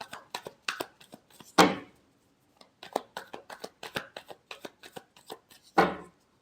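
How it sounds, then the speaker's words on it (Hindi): Tarot cards being shuffled by hand, crisp riffling and slapping bursts in an irregular rhythm with two louder bridge-like riffles, close and alone with no voices. "last shuffle"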